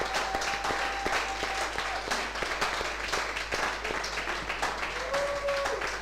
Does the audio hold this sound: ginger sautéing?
no